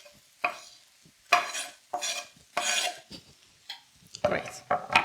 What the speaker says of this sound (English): So we're going to stir fry it for a bit, so all the flavors infuse.